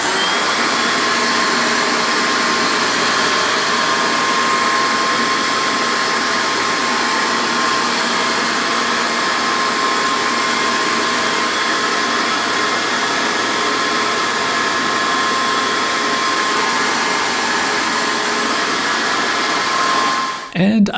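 A DeWalt V40 cordless backpack blower roars steadily and loudly at close range while clearing deep, heavy snow, holding an unbroken rushing whine for about twenty seconds before a brief change at the very end.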